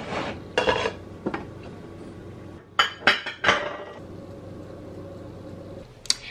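A metal lid clinks onto a frying pan holding eggs with their yolks cooking, several sharp clanks and rattles close by, with a brief clink at the end and no talking.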